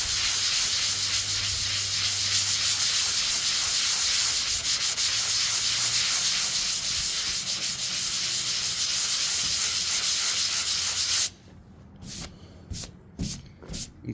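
A sponge rubber sanding pad scrubs rust off steel in small circles, making a loud, continuous abrasive rasp close by that stops abruptly near the end, leaving a few short scuffing rubs.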